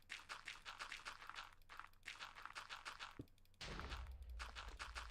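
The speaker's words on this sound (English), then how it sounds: "I hear explosions." Explosions in the Minecraft Cobblemon game, a run of dull booming bursts that ends in a louder sustained rumble, heard alone without talk.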